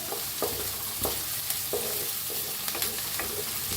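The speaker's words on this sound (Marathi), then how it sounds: "कढीपत्ता कांदा छान असा भाजायचा" Curry leaves and onion fry in a pan while being stirred, a steady close sizzle broken by rhythmic spatula scrapes every half second or so, with no talking.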